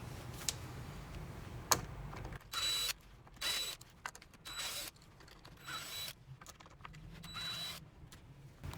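T20 Torx screws being backed out of a 1994–2004 Ford Mustang convertible headliner, heard as intermittent bursts of quiet ratcheting and mechanical clicks with short pauses between, close and faint.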